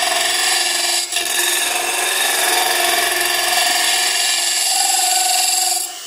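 Inch-wide beefy gouge hollowing end grain on a wood lathe, a steady, loud continuous scraping cut that runs almost the whole time with a brief dip early on, then stops near the end.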